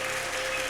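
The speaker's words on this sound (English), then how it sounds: "a big round of applause" Applause from the audience at a school annual programme as a student is honoured, a dense steady wash of clapping filling the short moment without pause.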